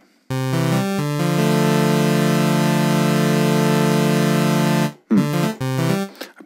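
Reason Europa synthesizer playing a custom user waveform with its filter switched off: a loud, bright, buzzy sustained tone rich in harmonics, stepping through a few pitches before cutting out, then a short return of the note.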